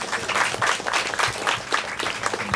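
An audience at a graduation ceremony in Urbano Santos applauds the arriving mayor, steady, moderately loud clapping from many hands that continues throughout without voices.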